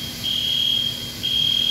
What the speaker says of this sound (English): Set off the fire alarm.